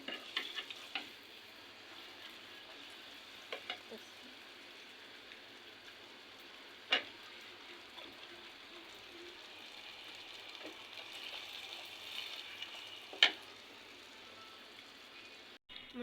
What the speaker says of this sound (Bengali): এই যে ফাইনালি দেখো ভাজি করে নিয়ে আসছি পকোড়াগুলা।